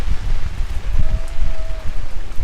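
Steady rain falls over an outdoor National Day of Mourning gathering, a dense patter mixed with wind buffeting the microphone, continuous and fairly loud throughout.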